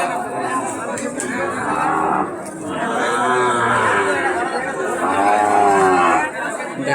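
Cattle low repeatedly at a calf market where Sindhi cross calves are sold, with long drawn moos rising over a steady murmur of crowd chatter and voices nearby.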